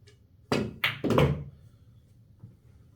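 Pool cue strikes the cue ball to send the 14 ball into the side pocket in an 8-ball game: a sharp close clack, then quick ball knocks and a thud, followed by quiet and a faint later tap.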